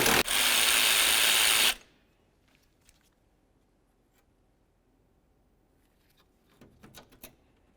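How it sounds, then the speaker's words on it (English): A power tool runs on a 10mm headed bolt being removed from a 2002-2006 Honda CR-V during alternator replacement. It gives a short, loud, steady whir up close, then near silence with a few faint clicks. "I'm going to remove this 10mm headed bolt"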